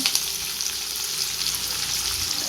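Chopped onion sautés in a pan for a cauliflower, peas and potato gravy, giving a dense continuous sizzle with light stirring scrapes, near and steady.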